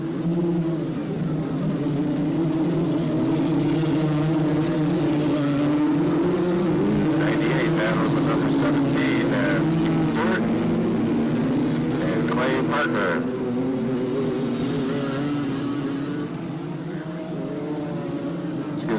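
Three-wheeler ATV engines racing at a 1985 AMA national race in Miami, a steady loud droning roar with revs rising and falling as machines pass, heard under continuous race commentary.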